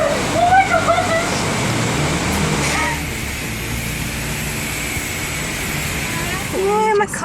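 Automatic car wash jets spraying water over a car, a steady loud rushing hiss heard from inside the vehicle, with short whining machine tones at the start and end.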